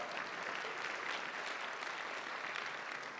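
A steady wash of clapping from a large TEDx talk audience, dense and even throughout, heard from some distance.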